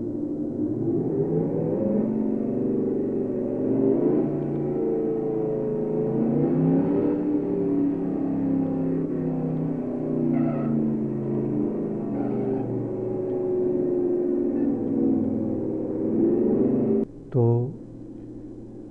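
Racing car engines in the vDrift computer racing game, a steady mid-pitched engine whine that rises and falls gently, with a brief abrupt burst near the end, over a voice talking throughout.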